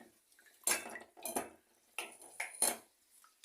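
A metal skimmer scoops French fries out of hot frying oil in a pot, making several sharp, close clinks and scrapes against the pot rim, separated by short quiet gaps with faint dripping.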